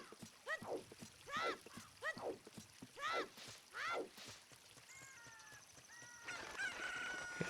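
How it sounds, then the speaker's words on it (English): Chickens in The Legend of Zelda: Ocarina of Time give a rapid series of sharp, rising clucks and squawks in bursts. Game chimes and music come in near the end. "Just to pick up the chicken"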